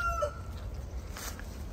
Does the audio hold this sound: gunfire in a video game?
no